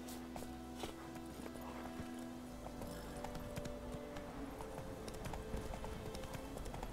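Roach, the horse in The Witcher 3, galloping, with a steady run of soft clip-clop hoofbeats heard faintly under game ambience.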